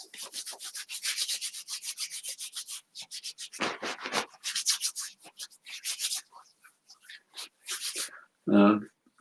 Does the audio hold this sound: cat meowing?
no